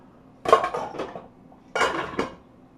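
A spoon scrapes and clanks inside a pot while beef and wild rice stuffing is mixed. Two short bursts of metallic clinking and scraping stand out against quiet.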